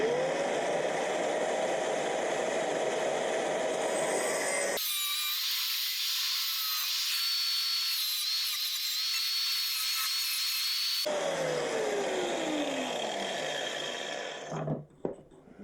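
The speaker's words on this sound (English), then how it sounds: "I'm just filing down any burrs on the edges of the steel" Burrs are filed off the edges of a steel fuel filler bracket, giving a steady, close whirring rasp that runs for several seconds and briefly turns thinner and higher before ending.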